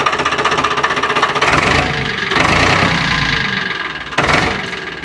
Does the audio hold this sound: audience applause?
no